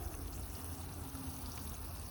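Water draining through freshly potted acacia bonsai soil, a quiet, continuous trickle and seep heard up close with no talk.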